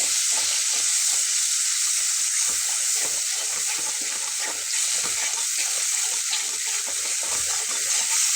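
Sour yogurt goes into softened, sizzling tomatoes in a pan for dahi bhindi, giving a close crackling sizzle with wet stirring and scraping sounds that continue steadily throughout.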